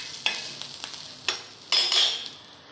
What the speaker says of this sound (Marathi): त्यानंतर मी त्याच्यामध्ये लसूण आणि जिरं ॲड करून ते पण छान परतून घेत आहे